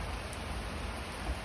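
Heavy rain pours steadily in a dense, even wash of noise, close and continuous, with no voices over it.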